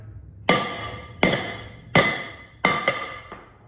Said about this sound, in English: And you just hit it with a hammer.